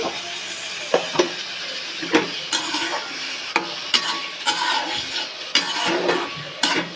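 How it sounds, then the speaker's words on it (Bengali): Spoon scraping and stirring through a tomato mash seasoned with turmeric and salt in a pan. Repeated close scrapes and clinks come in an uneven rhythm over a soft background hiss. "সবকিছু খুব ভালো করে নেড়ে চেড়ে মিশিয়ে নিচ্ছি"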